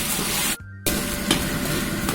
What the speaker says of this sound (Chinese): 放入色拉油，油温3成热，下入肉丝，慢慢把肉丝炒至发白。